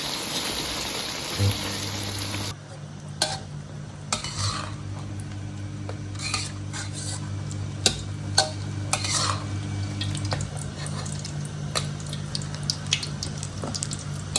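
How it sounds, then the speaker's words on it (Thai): Eggs sizzle in a pan and are stirred and scattered with a utensil while cooking a Thai sour curry with cha-om and shrimp, with repeated scraping clinks over a low steady hum and no talk. "เราก็จะเอาไข่ลงไปทอดนะครับ แล้วก็กระจายกระจายมันหน่อย"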